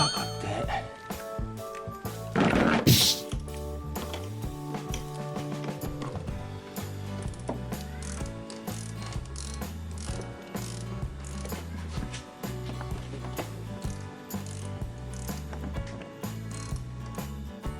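A ratchet clicks rapidly and rhythmically while removing the tensioner bolt on a Mini Cooper S R56, close and steady in repeated bursts, with a brief louder clatter early on.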